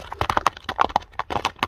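A horse's hooves clip-clop close by in a quick, uneven rhythm of sharp knocks, with no voices.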